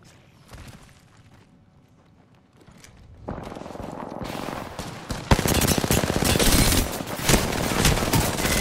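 Gunfire in an Apex Legends team deathmatch starts as a few scattered shots, then builds into loud, rapid automatic bursts and overlapping fusillades that continue to the end.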